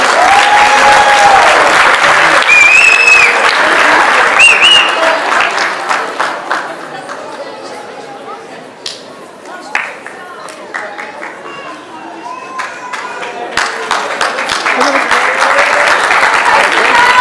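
Loud, sustained audience applause at a university graduation ceremony fills the space, fading to scattered clapping and chatter midway before swelling again to full applause.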